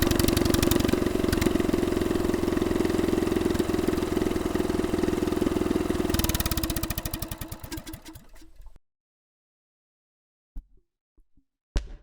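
A real POWERFIST engine runs steadily with a rough, mid-pitched chugging drone, loud and close, then winds down and cuts out after about eight seconds, leaving silence and a few faint knocks.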